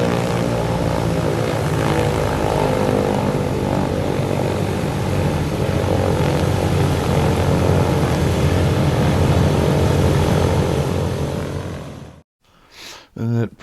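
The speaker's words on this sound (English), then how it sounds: "This guy's revving up his engine." A B-17 Flying Fortress's piston propeller engines run up close by with a loud, sustained, throbbing drone that holds steady for about twelve seconds, then cuts off abruptly, leaving a few brief bursts.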